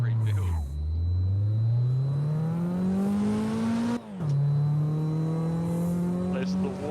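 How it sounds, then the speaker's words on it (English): A very loud Daihatsu Charade engine revs hard and close, rising in pitch, dropping briefly, then climbing again, with a sharp pop and faint talk in the background. "There's the world's loudest Daihatsu Charade. It is quite loud."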